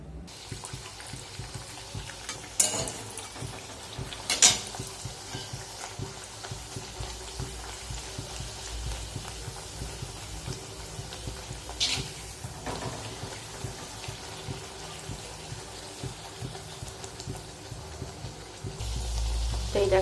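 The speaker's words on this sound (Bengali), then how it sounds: "চলো একটা একটা করে লুচিগুলো আগে ভেজে নিই" Luchi, small puffed flatbreads, fry one at a time in hot oil with a steady, rain-like sizzle that holds throughout, marked by occasional louder spatters and clicks, with no voices.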